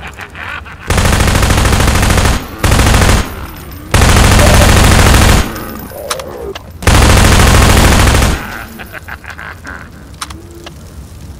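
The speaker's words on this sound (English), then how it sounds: "And he's shooting." Sustained bursts of loud automatic gunfire from the Half-Life 2 video game come in several long volleys separated by short pauses, with quieter game ambience between them.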